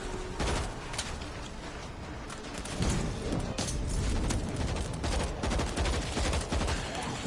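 Dense bursts of rapid gunfire from the zombie shooter World War Z, with automatic weapons firing in a continuous, crackling barrage throughout, loud and close.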